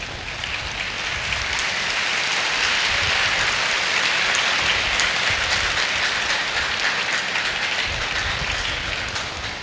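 An audience at a career guidance and parenting conference claps continuously, a dense, even wash of applause that sounds almost like heavy rain, with no voices over it.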